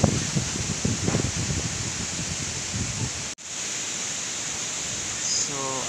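A strong typhoon wind in the Philippines roars as a loud, continuous broadband rush with gusting rumble and a brief dropout partway through.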